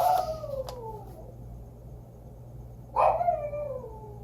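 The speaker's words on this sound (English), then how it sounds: "the beast is howling in the background" A dog howls from another room, two drawn-out, falling wails separated by a quiet pause, muffled and moderately distant, with no voices over them.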